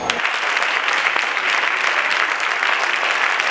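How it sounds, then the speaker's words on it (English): Church convention congregation clapping their hands in praise, a loud, dense and steady wash of applause that starts abruptly and continues throughout without a break. "continue to clap your hands and praise the Lord as Lady Stella comes back with the mass choi"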